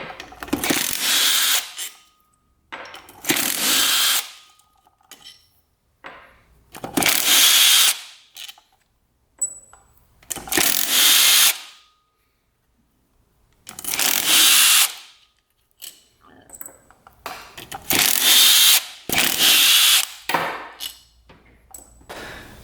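A power tool spins out the engine case bolts on a 250cc dirt bike, heard as a series of loud, close whirring bursts of about a second or two each, separated by brief silences, with no voices.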